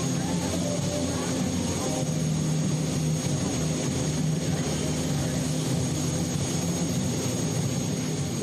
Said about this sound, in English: we'll bring a support vehicle in and get all three of those turbines fired up